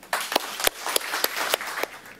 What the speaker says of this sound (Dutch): een hartelijk applaus voor Hans.